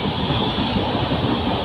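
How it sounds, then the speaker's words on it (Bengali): Train running on rails, a loud, steady rumbling roar close by, with no voices, over a brief stretch. "ট্রেন যাচ্ছে"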